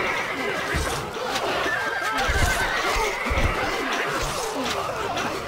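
A horse neighs and whinnies in the Stronghold Crusader strategy game, several short snorting whinnies close up over game ambience.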